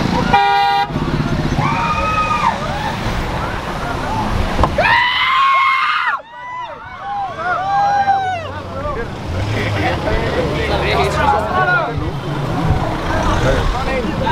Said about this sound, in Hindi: चीखे सुनिए आप